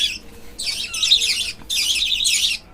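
Budgerigar chirping in rapid bursts of high, scratchy warbling, close and fairly loud, with short pauses between runs; kept in a home aviary alongside love birds and diamond doves.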